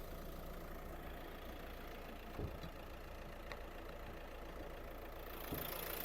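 A Renault Megane car engine idles steadily and quietly, a low continuous hum with a couple of faint clicks, no voices.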